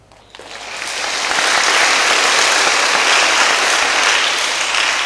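Audience applause at a Buddhist talk, building quickly from a quiet start into sustained, dense clapping from a large crowd that holds steady for several seconds with no talking over it.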